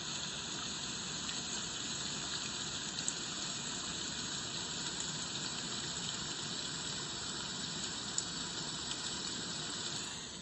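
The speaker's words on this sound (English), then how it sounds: "This would be rain." Rain setting played on a white noise speaker with a wireless charger: an even, unbroken hiss of synthetic rainfall, steady and moderately loud for the whole stretch, with a couple of faint ticks.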